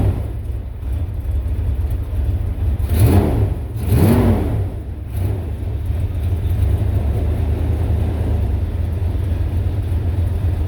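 A 1992 Ford Econoline van idling close by is given a little gas, rising in two quick revs that fall back before it returns to a steady, loud idle.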